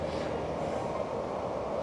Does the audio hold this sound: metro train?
yes